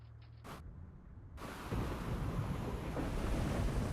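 A storm at sea in the submarine game Silent Hunter 4 sets in as roaring wind and crashing surf, rising after a couple of brief bursts into a steady loud rumble.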